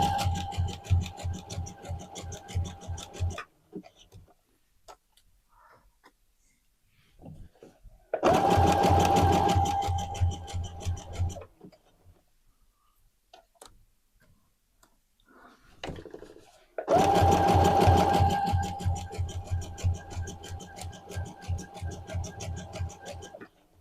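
A domestic sewing machine stitching leggings fabric, running in two long steady bursts of rapid mechanical whirring with a pause between them, loud and close, with quieter handling sounds in the gaps.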